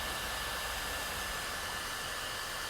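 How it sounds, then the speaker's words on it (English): Hair dryer blowing steadily on a Yeezy Slide, a constant close airy roar with a faint whine, unbroken for under three seconds. "Let's see if we can remove that with just a hair dryer"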